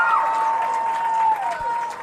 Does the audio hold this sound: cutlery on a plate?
no